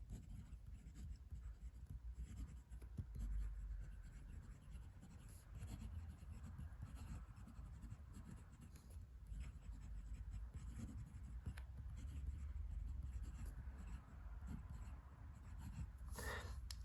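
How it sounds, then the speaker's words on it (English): A Stilform INK fountain pen nib writes on paper, with a continuous faint, close scratchy scrawl of strokes over low background rumble and no talk. "So you can hear there is a little touch of feedback there."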